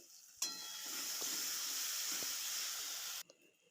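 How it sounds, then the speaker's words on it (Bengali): A paste of chilli, ginger, cumin and cardamom lands in a hot pan for a rohu fish curry and sizzles loudly at once. The steady hiss and crackle holds for about three seconds, with a few faint stirring clicks, then stops abruptly. "দিয়ে দিলাম আদা জিরে আর এলাচ বাটাটা এটা দিয়েও ভালোভাবে মশলাটা কষিয়ে নিতে হবে সময় নিয়ে"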